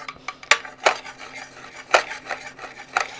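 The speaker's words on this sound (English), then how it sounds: "We're going to get 2 good sized pickles out of the jar." Cutlery clinks and scrapes against a glass pickle jar as two good-sized pickles are fished out, a few sharp metallic taps spaced irregularly over a faint steady hum, with no talking.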